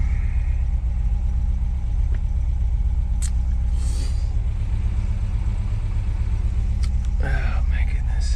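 A cold motor idles soon after a cold start, a steady, loud low rumble that holds level throughout, with a few brief clicks and rustles and some voices near the end.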